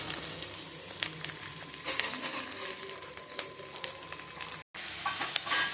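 Curry leaves frying in hot oil in a pan, a dense steady crackling sizzle with occasional sharp pops and a brief cut to silence near the end, no talking.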